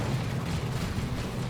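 A grenade goes off in the Warhammer strategy game Dawn of War 2 during a Chaos Space Marines versus Eldar battle, leaving a deep, sustained rumbling blast that fills the whole moment at moderate loudness.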